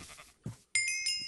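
Sheep bleating in Minecraft, a few short nasal bleats from the game's flock, moderately loud, separated by brief gaps with a faint game chime.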